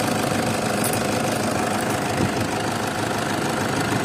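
A Toyota Fortuner VNT engine idles with a steady, close, even rumble and faint knocking texture, running alone without voices.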